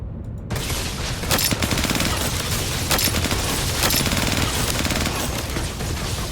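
A spinning gun turret in Star Citizen fires in a dense, continuous rapid burst, loud, with sharp periodic cracks punctuating the sustained roar of gunfire throughout.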